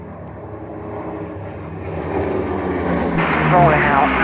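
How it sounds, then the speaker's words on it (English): A vintage German aircraft's engine at the Duxford Flying Legends 2011 airshow drones steadily and grows louder, with a rising whine near the end and speech over it. "once in flight, the aircraft is supposed to be, well, not really a pussycat"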